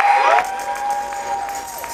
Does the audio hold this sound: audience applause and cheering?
yes